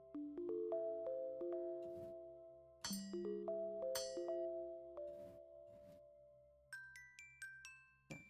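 Bright metallic bell tones being layered into a sound effect for a game in development, several struck dings with long ringing tails and rising high-pitched chimes near the end, clear and alone.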